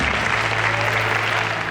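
A crowd and actors in the film scene after Gordon Gekko's speech in Wall Street applaud together, giving a continuous, even wash of clapping from many hands in a large room.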